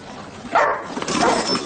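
A dog named Fédor, taken to Paris, gives a sharp yelp then whimpering, whiny barks, close and loud, in a short burst with no talking.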